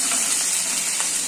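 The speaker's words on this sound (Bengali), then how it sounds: "এবার আমি আদা দিলাম, আদাটা একটু নেড়ে নেব" Ginger frying in a pan with oil and being stirred, giving a steady close sizzle with a faint scrape of stirring partway through.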